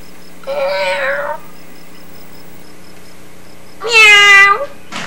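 A voice imitates a cat with two drawn-out meows separated by a pause, close and clear, the second louder and longer.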